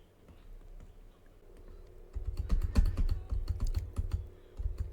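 Computer keyboard keys clatter in quick irregular bursts, sparse at first and then denser and louder, with a low background hum underneath and no talking.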